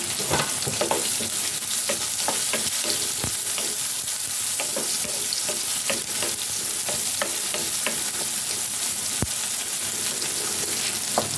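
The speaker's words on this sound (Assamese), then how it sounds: "আৰু এই পিঁয়াজটো এতিয়া ভাজি লওঁ" Finely chopped onion sizzles and crackles in hot oil in a home kitchen for Rajasthani pyaz ki sabzi, a loud, close, continuous fry broken by sharp stirring clicks and scrapes, with no talking.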